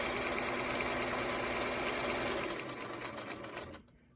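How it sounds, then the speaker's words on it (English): A yellow Featherweight sewing machine stitching steadily, a close, loud rapid mechanical whir that slows and softens toward the end before stopping. "Today I'm sewing on Miss Dolly. She's my yellow featherweight"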